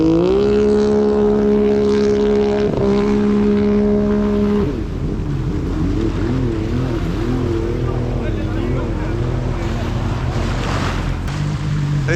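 A SeaDoo RXP racing jet ski engine at a water jet race holds a loud steady whine, then cuts and warbles up and down at high boost, under wind and surf noise with talking.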